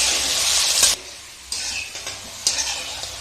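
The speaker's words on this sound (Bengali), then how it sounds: "এখন এইভাবে নেড়ে চেড়ে ভালো করে আলুটাকে ভেজে নিতে হবে" Potatoes with turmeric and salt fry in oil while a spatula stirs them, making bursts of loud sizzling and scraping that break off briefly and then return, close up with no talking.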